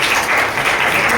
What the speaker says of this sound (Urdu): تو ہم زوردار تالی بجائیں گے اور ہم بتائیں گے کہ ہم ٹھیک ہیں